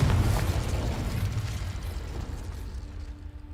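Spell blasts from Incendio and Confringo in Hogwarts Legacy erupt as a loud burst at the start, followed by a rumbling, crackling decay that gradually fades over a few seconds.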